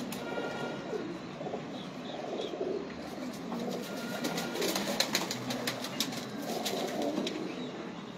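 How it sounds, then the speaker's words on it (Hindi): A Ferozpuri pigeon coos softly in sunlight, with low murmuring calls under a steady background of other birds and occasional wing flutters. "ये फिरोजपुरी कबूतर है।"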